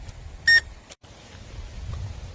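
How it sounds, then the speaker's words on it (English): Remote control shark boat with LED lights giving a low battery warning: one short loud beep, then quiet rain-like background noise with a couple of faint ticks. "it kind of shut down and started beeping like a low battery kind of warning"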